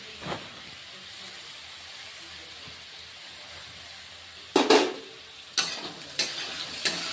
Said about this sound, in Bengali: আদা রসুন পেস্ট করে রেখেছি আদা রসুন বাটাও দিয়ে দিচ্ছি